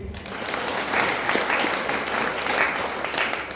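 A crowd gathered at a religious gathering at the Shri Mouna Mallikarjuna Math in Mamadapur claps steadily for several seconds, a dense, even wash of applause with no voices over it.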